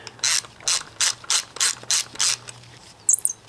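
Ratchet wrench with an 11 mm socket working a rusty manifold stud loose on an E36, seven crisp evenly spaced ratcheting bursts up close, then a brief metallic rattle.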